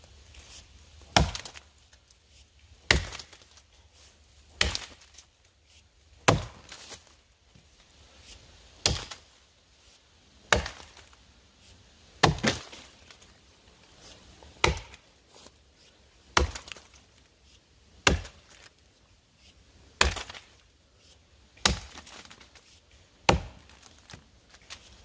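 A refurbished True Temper axe chops into wood with sharp single thunks roughly every two seconds, a measured rhythm of about fifteen strikes in an outdoor setting with no talking.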